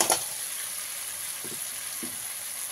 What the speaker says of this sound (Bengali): এবারে এর মধ্যে ভেজে রাখা মাছের মাথাটা আমি দিয়ে দিলাম